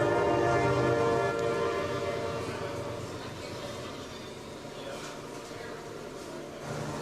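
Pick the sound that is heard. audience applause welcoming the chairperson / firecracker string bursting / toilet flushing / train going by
train going by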